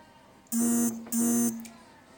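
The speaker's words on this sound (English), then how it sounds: "I got a text message." Two short electronic notification buzzes from a phone receiving a text message, each about a third of a second long, close and fairly loud, separated by a brief gap and heard alone in a home kitchen during cookie baking.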